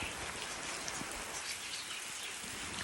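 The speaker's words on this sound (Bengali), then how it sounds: "ভালো বৃষ্টি নামছে" Steady rain pours down on a village on a cold day, a dense even hiss of drops on surfaces, close and continuous with no voices.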